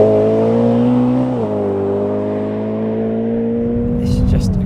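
A naturally aspirated 4.6-litre S65 V8 in a BMW E91 M3 GTS Touring, making 550 hp, hums steadily at cruising speed from inside the cabin, its tone shifting slightly as revs change.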